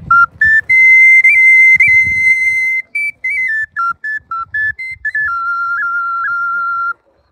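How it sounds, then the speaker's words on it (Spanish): A miniature pre-Hispanic flute or ocarina plays a shrill, whistle-like melody of held and short notes, loud and close, with faint background voices underneath. "Esa es una flauta o ocarina"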